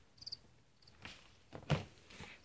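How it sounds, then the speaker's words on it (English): Crickets in a reptile keeper's feeder bin give a few faint, brief chirps and rustles, quiet and close. "And then over here I have my crickets,"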